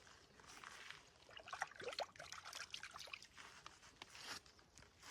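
Fish freshly cleaned and scored are rinsed in the water of an alpine lake in the Cascade mountains, giving soft, close trickling and splashing that runs steadily with small bursts of dribble and no talk.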